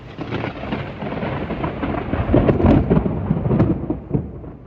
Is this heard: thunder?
yes